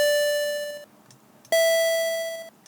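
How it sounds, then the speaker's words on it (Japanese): Two bright 8-bit synth tones, each a steady pitched square-like beep that decays from full volume toward silence over about a second, with a short gap between them and no talk. "これは音量10から0に60フレームかけて減衰する"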